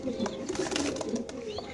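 Pigeons coo softly in cages at a pigeon market in Bangladesh, low rolling calls repeating close by over a faint background of voices.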